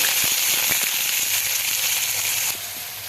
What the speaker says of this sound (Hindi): चलिए अब इसे भी गरम तेल पे डालते हैं। तो चलिए तेल में डाल देते हैं प्याज को।